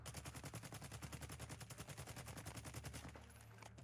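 Rapid automatic gunfire from Warzone, a continuous machine-gun burst of evenly spaced shots lasting about three seconds before stopping, fairly quiet overall with no talking.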